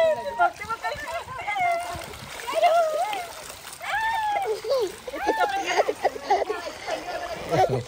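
Water splashes and sloshes in a cold resort swimming pool, with bursts of splashing at close range while children and adults talk and call out throughout.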